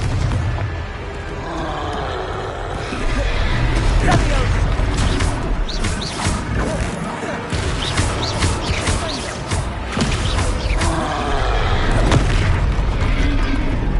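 A Confringo blasting spell goes off during a Hogwarts Legacy battle, a loud deep boom followed by crackling debris and impacts under ongoing combat noise and game music, with repeated bursts through the fight.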